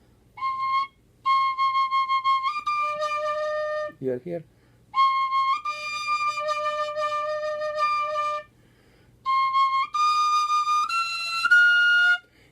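A large-bore whistle plays loud, bright sustained notes in several phrases, close by, with a brief spoken remark in a gap between phrases.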